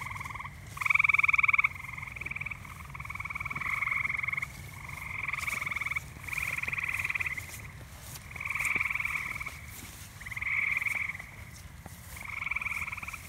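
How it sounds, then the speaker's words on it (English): Green frogs croak at night in a pond, a run of loud, twangy calls repeated in a steady rhythm, with a quiet background and no voices. "Now, I think we got these frogs schooled, Jacob."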